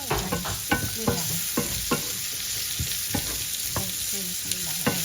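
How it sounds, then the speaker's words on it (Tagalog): Onions and garlic fry in a pan for a pork and red bean sauté, with a steady close sizzle broken by repeated sharp scrapes and clacks of stirring. "Para medyo mag-burn ng konti yung mga onion sa garlic."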